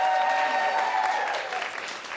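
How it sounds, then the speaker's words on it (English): Audience applause for theatre performers at an improv comedy show, steady dense clapping that gradually fades toward the end. "Round of applause for all our performers."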